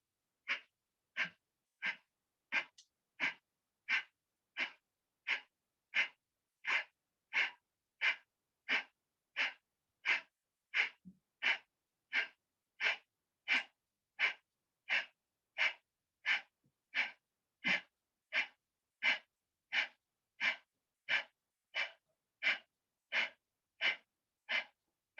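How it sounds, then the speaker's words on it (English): Kapalbhati breathing during a pranayama session: a long, steady series of sharp, forceful nasal exhalations, about thirty evenly spaced puffs in quick rhythm, close and alone without talk. "holding your breath, you go down and look up and do Kapalbhati for 1 minute"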